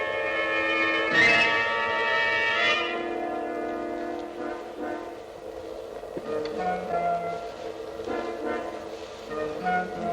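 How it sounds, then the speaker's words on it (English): A Roman bell rings loud and close, with one strong stroke whose bright, ringing overtones sustain and slowly decay, followed by further softer tolls that hum on through the rest of the passage. "I'll sit here and admire the Roman bell."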